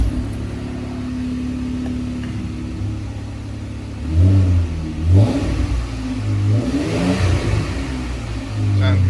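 A 2014 Jeep Wrangler with an MBRP exhaust idles with a low, steady rumble, then revs several times in quick bursts of deeper growl, close by with a little talking mixed in.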